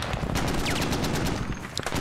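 Rapid machine-gun bursts from an MG nest and a .50 cal in the Squad video game, dense overlapping rattling fire throughout, loud and close with distant crackles mixed in.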